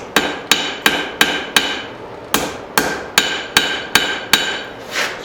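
Eleven sharp hammer blows ring out on a blacksmith's anvil while forging dug-up junk metal, struck in a steady, evenly spaced rhythm with a brief pause midway, loud and close with no talk.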